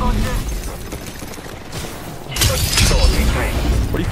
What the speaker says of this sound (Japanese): 発砲中。